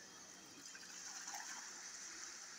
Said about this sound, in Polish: Lejemy wodę.